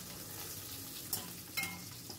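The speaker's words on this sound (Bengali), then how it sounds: "খুব বেশি ফ্রাই করবো না, হাই ফ্লেমে রেখেছি।" Onions sizzling in oil on a high flame with spices, a continuous soft frying hiss with a couple of scraping stirs cutting through.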